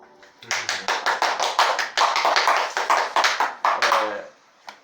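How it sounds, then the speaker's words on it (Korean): A church congregation claps in thanks to the Lord after a prayer, a loud run of sharp, distinct claps in a brisk, slightly irregular rhythm that starts abruptly and stops near the end. "주님을 찬양하며 주님께 감사의 박수"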